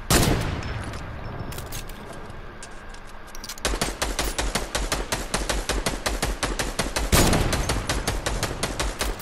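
Rapid bursts of video game gunfire, a dense automatic stream of shots that pauses briefly and resumes, loud and continuous with no talk.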